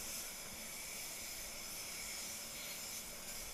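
An Anest Iwata LPH 400 spray gun lays clear coat over black base coat, giving a steady, even airy hiss that holds unbroken at moderate volume throughout.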